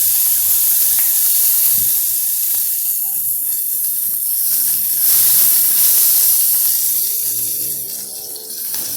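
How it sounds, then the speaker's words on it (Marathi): Thinly sliced onion sautéing in a pan for a peas and potato rice dish, giving a steady, loud, close sizzle and hiss throughout with no talk. "हा कांदा टाकून थोडासा ना सातळून घेऊया"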